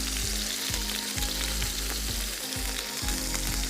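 Boneless chicken strips with chopped garlic frying in hot oil, a steady loud sizzle broken by regular stirring scrapes about every half second, with no talking.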